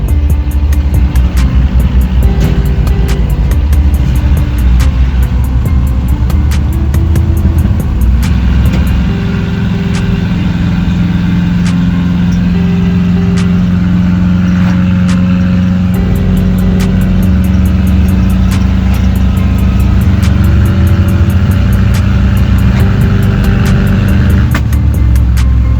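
A Chevrolet El Camino with a 305 V8, three-speed and freshly installed exhaust runs steadily, a loud, continuous low engine drone with a deep rumble holding throughout, no voices.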